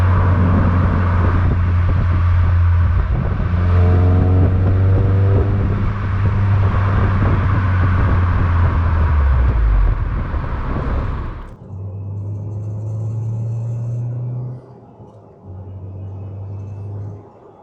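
A Ford Escort RS2000 4x4 Mk5A's exhaust note rises as the engine revs up, a loud droning tone climbing steadily before cutting off sharply, followed by two shorter lower revs.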